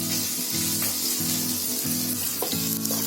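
Garlic sizzles steadily in hot oil for a Soyabean Manchurian, a constant frying hiss with a few soft periodic stirring scrapes, close and fairly loud, no voices.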